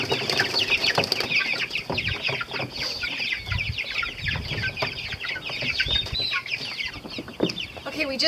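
Four-week-old Cornish Cross meat chickens cluck and chirp densely inside carriers, with wing flapping and shuffling close by.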